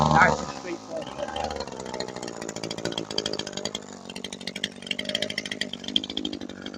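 Power trimmer buzzes steadily while trimming garden plants, a continuous motor drone with a sharp burst at the start, mixed with overlapping speech throughout.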